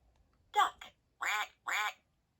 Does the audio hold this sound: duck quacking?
yes